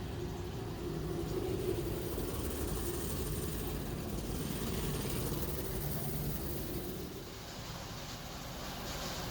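A vibrating shaker deck on a homemade gold wash plant produces a continuous loud, rumbling mechanical drone with a steady rattling buzz, unbroken for the whole stretch and without speech.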